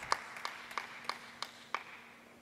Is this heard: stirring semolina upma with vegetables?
no